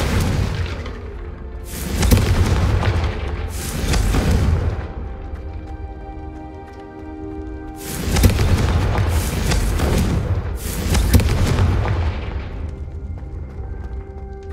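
Loud, booming blasts from the Confringo fire spell in the Hogwarts Legacy video game, with several heavy explosions in two clusters, each followed by a rumbling decay, and no talk over them.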